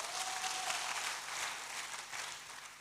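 A church congregation claps together in sustained, dense applause, moderately loud and continuous throughout, easing slightly toward the end.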